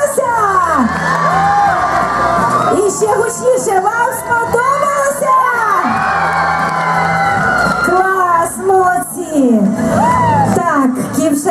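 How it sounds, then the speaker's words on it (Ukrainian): A crowd at a village day festival stage in Kovsharovka cheers and shouts loudly, with high children's voices and whoops rising and falling in waves; applause is buried beneath the vocal din. "Ну що ж, друзі, ваші оплески! І ще гучніше"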